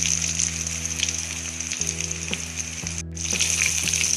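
Chicken pakora fry in oil on low heat, a steady close sizzle with a constant hiss and occasional light spoon taps and stirs, no voices.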